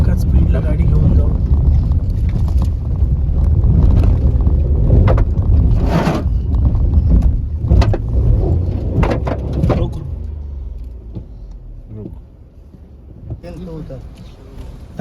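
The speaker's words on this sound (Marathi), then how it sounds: "गाडी थांबली तर परत रिवर्स घ्यायला लागेल म्हणून एकाच स्पीडला गाडी घेऊन जाऊ." A car labours up a steep, rough mountain road on the Pokhara to Muktinath route, its engine a steady low rumble mixed with wind buffeting and scraping for most of the stretch, easing near the end, while people talk over it.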